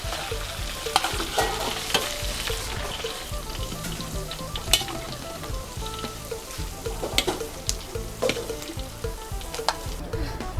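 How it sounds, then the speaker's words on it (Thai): Bird's eye chilies frying in oil, a dense continuous crackle and sizzle with scattered scraping clicks from stirring, close and steady throughout. "พอใส่พริกขี้หนูสวนลงไปเจียวได้สักหน่อยต่อไปก็ตักขึ้นได้เลยนะคะ"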